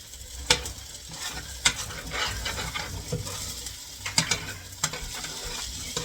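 Food stirred and frying in a home cooking pan, hibachi-style, with a continuous sizzle broken by periodic utensil taps and scrapes against the pan; no talking.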